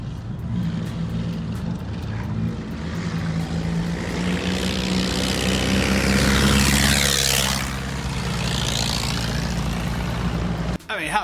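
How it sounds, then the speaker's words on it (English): Hopped-up old Ford Model A cars race at a banger race, their engines droning loudly. One car roars past close by near the middle and fades away, and a voice can be heard faintly under the engine noise. "watching these old Model A's racing each other with their stock, well, they've been hopped up"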